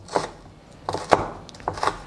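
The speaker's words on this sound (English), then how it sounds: "All I need to do is to beat my eggs" Eggs are beaten for an omelette in a bowl, heard as a few quick, close clattering strokes in separate bursts with no talking.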